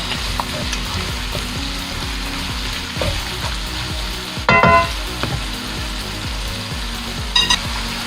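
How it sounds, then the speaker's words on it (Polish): Steady, loud sizzling of onion frying in a pan, with occasional clinks and scraping from stirring. "Cały czas smażę tą cebulę."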